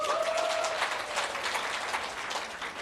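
An audience at a business seminar claps in a steady, dense burst of applause that carries on throughout at a moderate level, with no clear speech over it.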